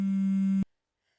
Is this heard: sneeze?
no